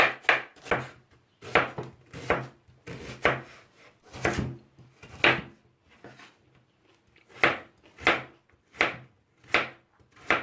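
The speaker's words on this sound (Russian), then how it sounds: "Берем половину луковицы и нарезаем на маленькие кубики." Half an onion is diced into small cubes on a cutting board, with a knife striking in quick rhythmic bursts of crisp chops separated by short pauses, close and clear, with no talking.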